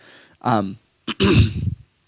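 Two short, close throat-clearing sounds separated by a brief pause, rough and guttural, with nothing else around them.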